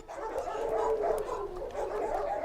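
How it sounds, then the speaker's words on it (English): A nervous shelter dog gives soft, close whining yips and whimpering barks in a continuous strained run, with no clear speech over it. "Good dog."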